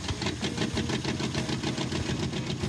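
Jeep J engine running rough just after cranking, a loud, uneven chugging idle with rapid irregular pulses, close by and alone.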